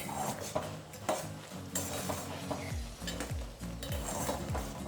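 A utensil stirs grated coconut through boiling sugar syrup in a pan for a Telugu coconut chakki sweet. Steady close scraping and clinking against the pan comes in a repeating rhythm over a soft bubbling simmer, with no voices.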